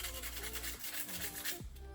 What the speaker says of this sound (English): I'm gonna sand the whole cup